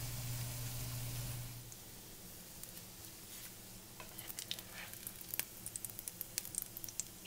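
Homemade bacon strips frying in a frying pan give a steady, fairly quiet sizzle with scattered small pops and crackles that grow more frequent toward the end; no one talks.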